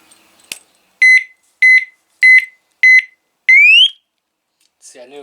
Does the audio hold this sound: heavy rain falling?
no